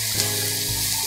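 Garlic sizzles and crackles steadily in a hot pan for spaghetti squash lasagna, a close, continuous frying hiss with no talking.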